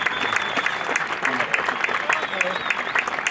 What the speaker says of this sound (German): Das ist Ihr Applaus für unsere Nummer 8.